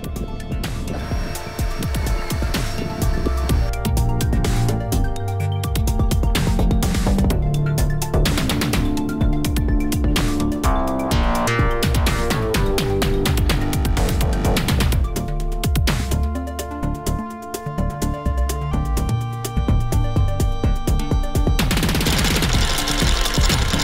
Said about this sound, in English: so I know when I can stop drilling